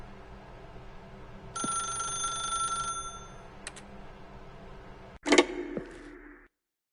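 A telephone rings in the video game The Stanley Parable, a bright electronic ring repeating for a second or two over a quiet background, followed by a click and clatter as the receiver is picked up, with no talking.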